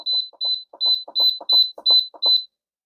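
An Instant Pot pressure cooker beeps as it starts: seven rapid paired electronic beeps in an even rhythm, close and clear, then silence.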